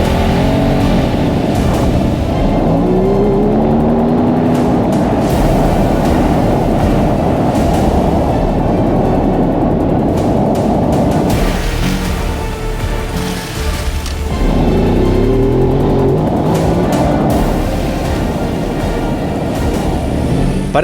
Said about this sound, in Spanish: pero sigue dando pánico acelerar en la hierba con una moto tan potente y tan pesada